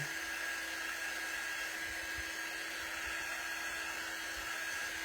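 A hair dryer blowing on freshly applied chalk paint, giving a steady, even whirring hiss that holds unbroken throughout at moderate volume.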